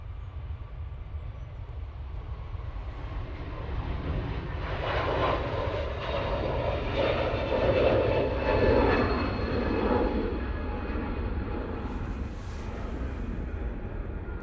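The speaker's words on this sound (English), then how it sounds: "Transat A321 LR now departing to go back to Toronto." An Air Transat Airbus A321LR departs Manchester Airport, its engines a loud, steady low roar that swells with rising whine and rumble, heard from a spotting position without talk.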